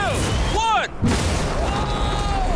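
Several booming gunshots from a video game where a Lamborghini is crushed by a hydraulic press, with whooshing sweeps and a brief hard cut, no speech.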